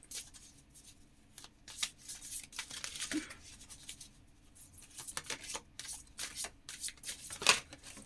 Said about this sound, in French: Je vais tirer une dernière carte pour voir ce que les guides ont envie de vous dire.